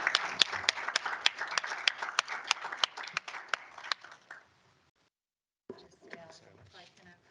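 An audience applauds a professor after his ophthalmology lecture on retinitis pigmentosa: a few seconds of moderately sparse clapping taper into silence, then a soft voice and faint room murmur follow.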